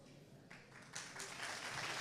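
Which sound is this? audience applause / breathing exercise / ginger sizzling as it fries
audience applause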